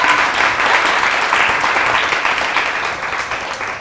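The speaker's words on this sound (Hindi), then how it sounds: "रोजमेरी के लिए बहुत सारी तालियां" Studio audience on a TV morning show applauds for Rosemary, a dense, steady wash of clapping held at even loudness throughout, easing slightly toward the end.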